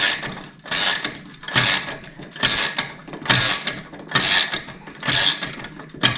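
Repeated bursts of ratchet clicking as a wrench tightens stainless handlebar bolts on an LTR450 quad with new ODI bars, about seven rhythmic strokes with brief pauses between, loud and close, no talking.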